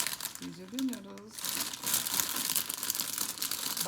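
A plastic bag of dry bow-tie noodles crinkles and rustles loudly and continuously as it is handled and poured over a stovetop pot, following a short moment of a person speaking.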